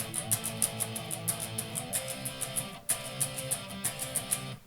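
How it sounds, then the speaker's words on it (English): Electric guitar repeating one part of an extended power chord, a C with a high E, in a steady rhythmic pattern of picked notes with a brief gap midway, played alone and up close. "Okay, so that's one guitar going"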